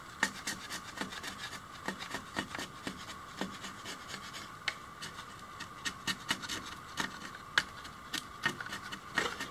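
A sharpened machete shaves mangrove wood while carving a pickaxe handle, giving a steady run of close, dry rasping strokes in quick irregular rhythm with no talk.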